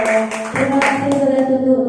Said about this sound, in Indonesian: tepuk tangan untuk Saudara Tutu.